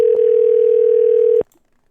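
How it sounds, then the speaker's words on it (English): A steady telephone dial tone rings out loud and alone as a radio show calls a guest on air, holding for over a second before cutting off abruptly into silence. "they're dialing up Too Mean to get him on the line."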